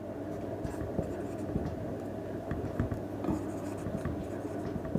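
Chalk scratches and taps against a classroom board in quick irregular strokes during a maths lesson, steady and close, under low background hum with a teacher's voice faintly mixed in.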